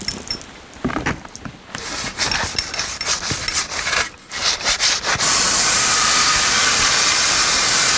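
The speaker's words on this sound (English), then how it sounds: "These are the trim strips that run along the bottom of the body, and we're going to clean them up and polish them up." Body trim strips from a 1982 Jeep CJ7 are scrubbed by hand in a run of close, rough rubbing strokes, then a steady loud hiss takes over for the last few seconds.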